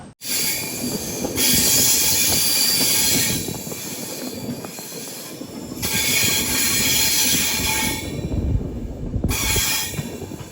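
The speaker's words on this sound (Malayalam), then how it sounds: "വണ്ടി ഇപ്പോൾ ഇതാ എടുത്തു." A train pulling out of a station on the Bengaluru–Mangaluru route rumbles and rolls steadily, with wheels squealing and hissing as the cars move along the track, loud and close.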